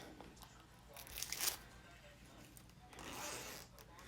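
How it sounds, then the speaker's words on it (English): A zipper is pulled open on a sewing project: two raspy zipping bursts, the first sharper and the second longer, over a quiet room hum. "now we are going to unzip our zipper."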